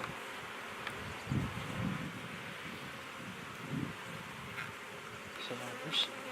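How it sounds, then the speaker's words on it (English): Honey bees buzz around an open hive during an inspection, a steady low drone from many insects with louder swells as individual bees pass near, mixed with faint wind. "So there's a lot of bees in this hive."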